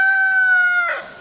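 A single rooster crows close by, one clear drawn-out call that breaks off at the end.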